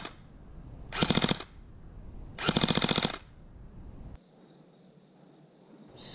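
KWA M4 Ronin electric blowback airsoft rifle firing at a Frontier Fortress field in New Jersey, two rapid-fire bursts of about half a second each with a fast clacking rattle, close and loud, followed by quieter background.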